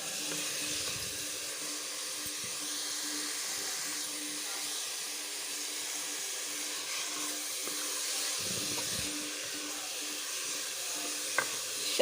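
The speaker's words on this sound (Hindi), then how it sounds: "अब इसको और भूनेंगे, अच्छी तरह इसको भूनेंगे।" Carrot halwa with khoya and desi ghee roasts in a pan, making a continuous soft sizzle and hiss, with occasional stirring scrapes and a small knock near the end.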